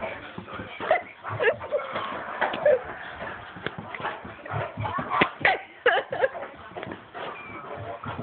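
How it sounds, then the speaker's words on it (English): A dog whimpers and yips in short, uneven bursts, fairly close and moderately loud, with some rustling and movement noise in between. "Crazy dog."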